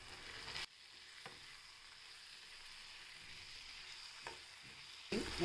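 Mashed paneer with peas and fresh coriander stirred in a hot pan, giving a steady, quiet sizzle with a few soft scraping knocks of the spoon, no voices.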